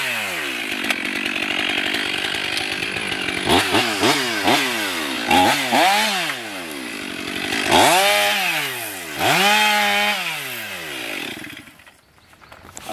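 Chainsaw limbing a felled tree, its engine running steadily close by and repeatedly revving up and bogging down as the chain bites through branches, then cutting out near the end.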